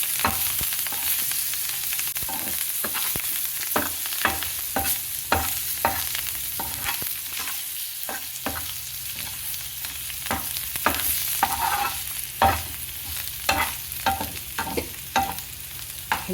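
Murrel fish frying in a hot pan, a steady loud sizzle with repeated sharp scraping and stirring clicks of a spatula throughout, no voices.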